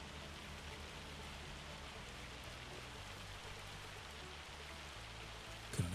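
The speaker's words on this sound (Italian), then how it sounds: "nel mezzo di una bella grandinata, aspettiamo che passi" Hail falls steadily on a farm field in June, a dense, even patter of stones that holds constant throughout, fairly faint and distant-sounding.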